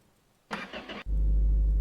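A pickup truck engine cranks with a short starter whir, catches, then settles into a loud, steady low idle close by, with no talk.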